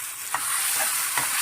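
Chilli powder and garam masala are stirred through a hot pan for macaroni pasta: a steady sizzle runs throughout, with three distinct spoon-scraping strokes spaced about half a second apart, close and fairly loud with no voices.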